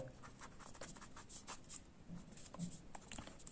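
Quiet scratchy strokes of writing on a board, short irregular marks and taps during a class 10 maths lesson, with no voice.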